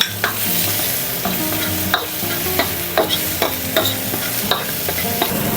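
Garlic and onion frying in a hot pan for pork kaldereta, a loud close sizzle with repeated scraping and tapping stirring strokes at a fairly even pace, no voices.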